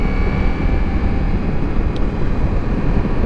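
A 2024 Ducati Multistrada V4S motorcycle engine drones in a constant, loud low rumble mixed with wind roar while riding on the road, with no talk.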